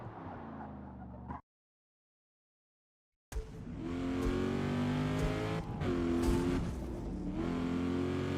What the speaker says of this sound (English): The 7-liter sounds more aggressive.